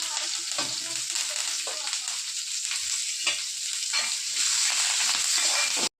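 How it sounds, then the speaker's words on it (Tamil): Steady, continuous sizzling of onion, garlic and curry leaves frying in a hot pan, with occasional stirring scrapes; no voices, ending abruptly. "நம்ம எடுத்து வச்ச பூண்டு, வெங்காயம் எல்லாத்தையும் போட்டு நல்லா வதக்கணும்."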